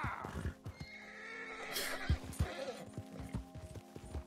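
Horse in Red Dead Redemption 2 descending a mountain, rhythmic clip-clop hoofbeats with a loud whinny partway through, close and prominent with no talking.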